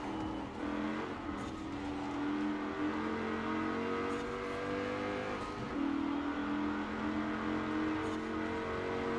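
Rover SD1 engine in the Forza Horizon 4 racing game, a steady loud drone that climbs and drops through gear changes with occasional tire squeal, continuous throughout.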